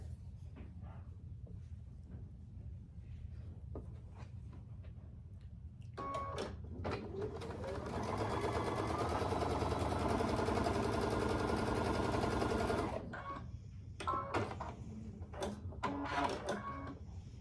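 A sewing machine stitches rows of a green quilt block together, a steady loud whir running for about seven seconds, framed by quieter handling clicks and taps before and after.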